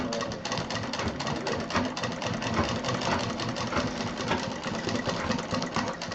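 A sewing machine stitches fabric for a simple DIY clutch in a steady, rapid mechanical whir that stays even and close throughout.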